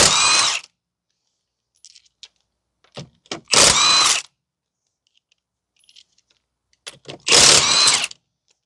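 Power tool loosening the lug nuts on the aftermarket wheel of a 2010 Toyota Corolla 1.8, in three loud ratcheting impact bursts separated by quieter clinks and pauses.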